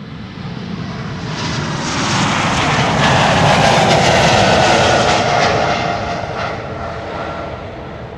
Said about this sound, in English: E2 Embraer on its way to Manchester.